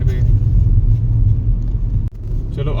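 Traffic rumbles past on a mountain road near Shimla, a continuous close, heavy low engine drone with a brief dip, then a car passing.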